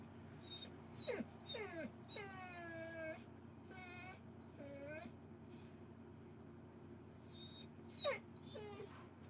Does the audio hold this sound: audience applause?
no